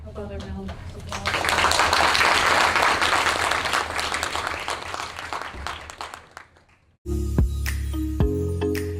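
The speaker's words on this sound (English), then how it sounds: "How about a round of applause?" An audience at a history roundtable panel applauds in a loud, sustained burst of clapping that fades after several seconds, followed by a voice speaking.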